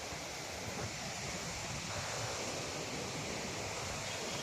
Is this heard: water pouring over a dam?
yes